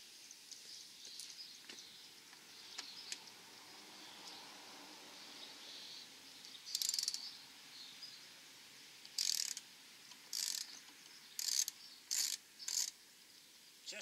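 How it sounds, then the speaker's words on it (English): A socket wrench ratchets on the windshield bolts of a Honda Forza scooter, with a run of quick, crisp, close clicking bursts rising out of a faint background in the second half. "your handy dandy socket wrench"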